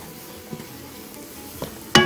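Kofta mixture with parsley, chili and spices gets stirred in a pan: a soft low sizzle with a few scraping strokes and a sharp clink at the end.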